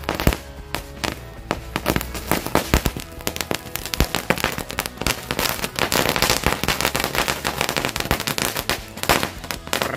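A green lighting firecracker barrage pops and crackles continuously for several seconds, dense rapid bangs, loud and close, with no talking.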